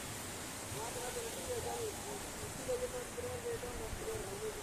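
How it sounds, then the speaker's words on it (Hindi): Heavy water pours near a large bridge, a constant broadband roar like a waterfall filling the scene, with a voice talking faintly over it. "बहुत तेज पानी गिरत था।"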